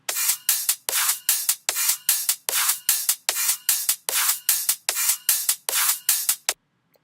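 An electronic drum loop with its low end filtered out, playing on its own with punchy, bright hits landing in a steady, fast repeating pattern before stopping abruptly.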